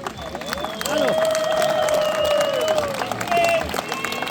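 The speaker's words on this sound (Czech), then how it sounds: "A teď bych chtěl poprosit všechny týmy, aby zatleskali všem našim divákům degustujícím" Applause from competing teams for the tasting audience at a grilled suckling pig contest awards ceremony in Vracov, a sustained crowd clapping with a steady tone and some voices running underneath.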